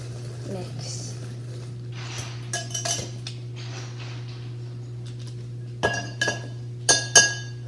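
Eggs and sugar being mixed in a bowl for gluten-free pizzelles, scattered clinks and taps of a utensil against the bowl that grow louder toward the end, over a steady low hum.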